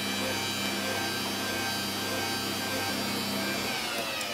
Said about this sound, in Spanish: voy a batir a media velocidad hasta que se integren todos los ingredientes